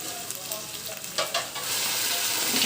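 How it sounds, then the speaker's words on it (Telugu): Boiled goat mutton curry is stirred in a frying pan: a steady sizzle of frying with soft scraping strokes of the spoon, close and continuous, with no voices. "మొత్తం వేసేసి కదుపు."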